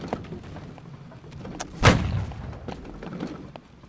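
A single heavy cannon shot from a ship in the naval battle game Holdfast: Nations At War, one sharp, booming blast that stands out loudly against quieter background noise, then fades quickly.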